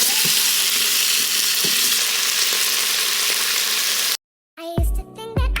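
Chopped onion hits hot oil in a pot, giving a loud, steady sizzle that fills the first four seconds before cutting off abruptly, followed by a brief burst of music.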